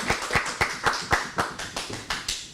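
A small group of audience members claps for young scholars at a school awards ceremony, giving about a dozen distinct, evenly spaced claps that sound thin and sparse rather than a full ovation.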